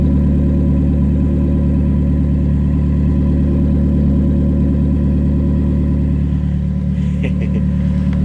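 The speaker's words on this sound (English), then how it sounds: "Just listen to the exhaust tone." Exhaust of a 2020 Toyota Corolla LE idling, a loud, steady, low droning rumble with an even pulse throughout, close to the tailpipe, with a few faint clicks near the end.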